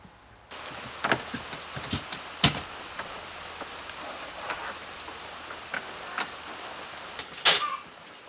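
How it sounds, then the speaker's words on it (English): Rain beginning to pour down outdoors during a door installation job, a steady hiss of drops on surfaces with scattered sharper spatters and taps, moderately close, no voices. "the rain just decided to suddenly start pouring down"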